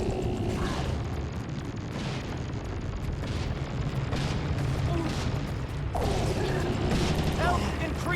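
Bombs explode in a Guild Wars 2 fight as a character runs around, making a continuous rumbling din of blasts and combat effects that swells near the end.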